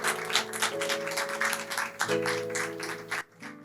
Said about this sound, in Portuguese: Aplauda bem forte ao nosso Deus, dando glória, exaltando o seu nome.